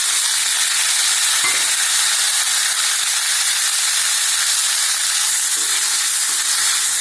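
Tomatoes sauté in sesame oil in a pan, a steady loud sizzle and hiss running throughout with a few faint stirring knocks, no talking.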